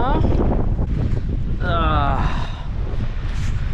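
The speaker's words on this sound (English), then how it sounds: "There is a obscene amount of wind out here" Strong coastal wind buffets the microphone in gusty, low roaring bursts on a sunny shore where Captain Cook first landed in Australia, with a voice briefly heard over it.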